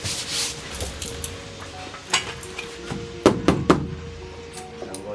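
Several sharp, drum-like taps on taut stretched canvas, a few in quick succession near the end, over faint background noise.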